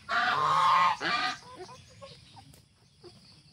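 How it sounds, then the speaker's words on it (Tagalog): Geese on a farm give two loud, close honks, then quieter scattered calls and clucks from fowl follow in the background. "Maalarma dahil mi kay ug nay gansa"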